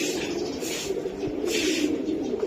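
Low, gentle cooing from a checker racing pigeon hatched in 2023, repeated in soft pulses over a constant noisy background, near and without talk.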